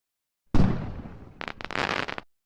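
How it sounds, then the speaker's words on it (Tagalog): Cartoon fireworks in an animation: one loud burst followed by a rapid crackling string of pops, fairly close and alone without talk. "Hindi naman yun sumabog ah. Fireworks lang yun."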